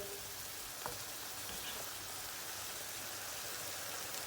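Tomato paste in a pan with cold water just added gives a steady, faint, hissing sizzle throughout, with a couple of soft clicks from stirring near the start.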